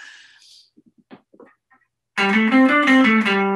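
A few faint plucks and taps, then a loud sustained electric guitar chord through a tube amplifier rings out with a rich, amplified, slightly driven tone.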